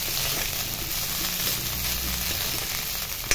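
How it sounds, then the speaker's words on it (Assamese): Cooked rice frying in a pan for an Assamese home-cooked dish, a steady close sizzle that runs without a break and has no talk over it. "এতিয়া এইখিনি অকণমান ভাজিব"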